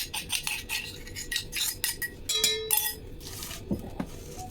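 A spoon clinks and scrapes against a bowl as ground paste is added to methi gota batter, with a series of light metallic taps and stirring sounds close by, no talk.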